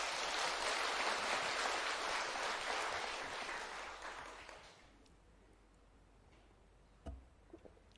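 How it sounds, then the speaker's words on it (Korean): Worshippers at a Buddhist temple's Ullambana (Baekjung) ceremony give a big round of applause to the flower offering team; full, dense clapping for about five seconds, then it fades into a quiet hall with a few stray knocks. "저 꽃공양하는 팀한테도 큰 박수 한번 보내주세요."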